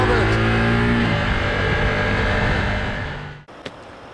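Ducati Multistrada V4S motorcycle engine revving up hard and close, its pitch climbing before settling into a dense, steady roar that drops away abruptly near the end, followed by a brief thump.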